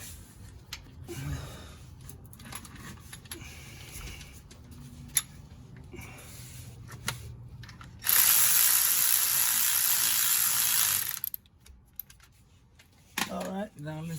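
A ratchet drives a starter bolt on a 2004 Jeep Rubicon with a 4.0 engine, close clicking strokes in short bursts, then a long steady loud whirring stretch, with a voice speaking at times.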